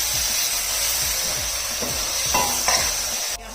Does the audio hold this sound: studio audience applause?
no